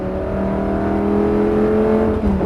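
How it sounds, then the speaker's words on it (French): A race car on the Nogaro circuit runs at full throttle, its engine holding a loud, steady, close droning roar that climbs slightly in pitch throughout. "accélère et gaz à fond"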